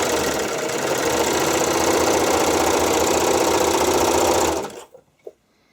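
A serger sewing machine runs fast and steady while stitching spandex bikini string, a loud, even mechanical whir with rapid needle chatter that stops abruptly near the end, followed by a couple of faint clicks.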